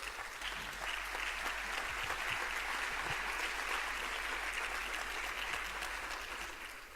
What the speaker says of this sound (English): Please give a warm applause to our first jury, that is Mr. Surab Pololikashvili